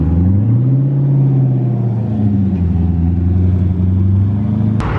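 Turbocharged car with a forged carbon hood revving at a street meet, a loud, close engine note that swells and falls across several seconds, ending in a sharp click.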